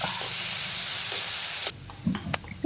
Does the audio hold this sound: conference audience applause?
no